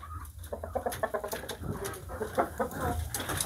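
Shamo chickens give off a run of soft clucks and short calls at close range, with a black hen and young pullets among the birds and no voices present.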